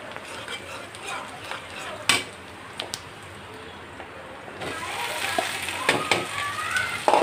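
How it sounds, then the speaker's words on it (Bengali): Chopped onion and sliced green chillies frying in oil in a wok, a continuous close sizzle broken by a few sharp utensil knocks and stirring scrapes that grow busier toward the end. "কড়াইতে তেল দিয়ে দিলাম, পেঁয়াজ কুচি, কাঁচামরিচ ফালি সব দিয়ে একটু হালকা ভেজে নেড়ে চেড়ে ভেজে নিব"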